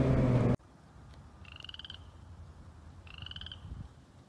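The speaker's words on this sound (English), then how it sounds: "it's a chorus frog" A chorus frog calls at a pond in two short, rapid trilling bursts, clear and fairly close against quiet outdoor background noise, after a brief louder sound at the start.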